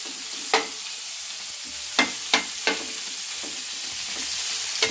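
Prawns and coconut pieces frying in a pan, a continuous hiss of hot oil with several crisp spatula scrapes, two of them close together near the middle, with no talking.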